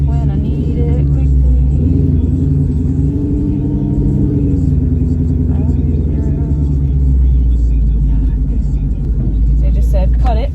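Whipple supercharged Ford Mustang idling and rumbling at a drag strip, a loud, deep, continuous engine drone close by, with a person talking over it.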